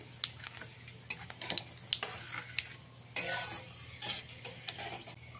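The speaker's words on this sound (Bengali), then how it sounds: "এবারে এর মধ্যে দিয়ে দেবো 2টো শুকনো লঙ্কা, অল্প কিছুটা পরিমাণে 5 ফোড়ন দিয়ে একটু ভাজা ভাজা করে নিতে হবে।" Two dried red chillies and Bengali five-spice seeds frying in hot oil in a pan on a gas flame, a faint sizzle broken by sharp irregular pops and ticks, with a louder hiss burst partway through.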